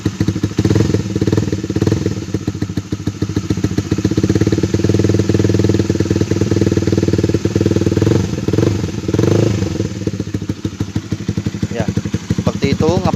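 A Honda CB150R motorcycle fitted with a CBR racing exhaust idles steadily up close, a loud, deep throbbing burble with rapid pulsing and occasional slight revs.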